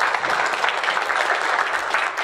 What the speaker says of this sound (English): Give those guys a big clap.